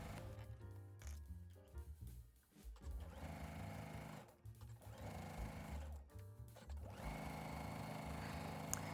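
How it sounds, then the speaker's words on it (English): A sewing machine stitches the side seams of a dolman-sleeve top: a close, loud mechanical whirr runs in bursts with brief pauses, then settles into a continuous sewing drone. "sew up the side seams at the sleeve curve"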